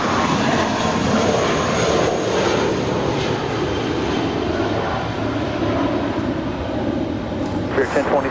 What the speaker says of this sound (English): Rolling down the runway, there is a Spirit Airlines Airbus A320-232.